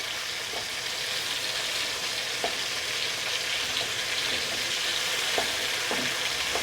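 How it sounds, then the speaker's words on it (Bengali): Tomatoes frying in hot oil for an echor chingri dish, a steady soft hiss with occasional light stirring taps, low in level and without voices. "টমেটোটা একটু ভাজা ভাজা হয়ে গেছে।"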